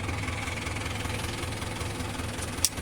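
A tractor ploughing hard, dry farmland rumbles with a steady low engine drone and rhythmic knocking, heard continuously at a moderate distance, with one brief sharp click near the end.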